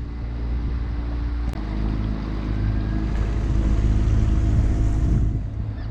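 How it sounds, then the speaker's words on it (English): Motorboat engine droning steadily nearby on a narrow channel, a low continuous rumble with wind and water noise, swelling slightly as it passes and dropping away near the end. "I'm catching this motorboat."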